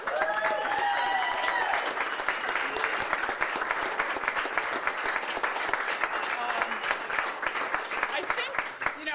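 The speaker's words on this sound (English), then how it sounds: "So wherever the Claude Squad is, you can cheer." Campaign event crowd at a New York primary gathering cheering and applauding loudly, with dense steady clapping throughout and whoops and shouted voices on top in the first few seconds.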